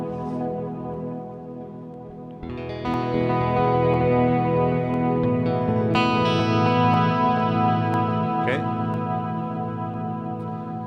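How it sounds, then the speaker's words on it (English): A sustained electric guitar tone rings out through a VFE Pedals Klein Bottle delay pedal with repeating echoes trailing behind, swelling louder partway through and holding steady with no talking. "So here I only have the delay on."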